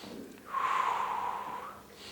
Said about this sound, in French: On inspire et on expire, et 3 respirations encore.